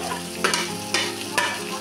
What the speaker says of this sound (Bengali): এবার একটু নাড়াচাড়া করবো, নাড়াচাড়া করে তারপরে আমি নামিয়ে নেব।